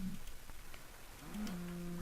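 A cow in the game Minecraft moos in low, drawn-out tones: one short moo at the start and a longer one near the end, over a faint background hiss with no speech.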